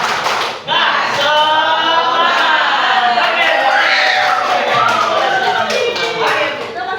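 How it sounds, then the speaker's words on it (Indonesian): A group of children in a classroom clap together in a rhythmic encouragement cheer, steady and loud throughout, with voices mixed in. "kita kasih tepuk semangat ya"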